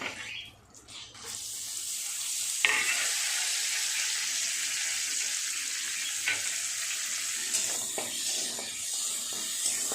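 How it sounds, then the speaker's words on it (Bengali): Chopped onions fry in a pan for a prawn and potato curry, a loud continuous sizzle with occasional scrape and stir knocks, close and free of talk. "পেঁয়াজটা সুন্দর করে ভাজা করে নেব।"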